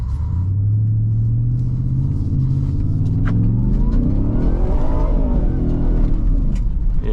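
2024 Ford Raptor R V8 engine revving hard during off-road driving with traction control off, a loud close rumble that climbs in pitch and swells through the run, with no talking.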